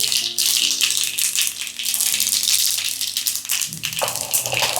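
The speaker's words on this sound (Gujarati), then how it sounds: "જીરું નાખો" Cumin seeds dropped into hot oil with popped mustard seeds for a tempering, giving a loud, continuous crackling rattle that spits and pops close up, with a faint low hum beneath.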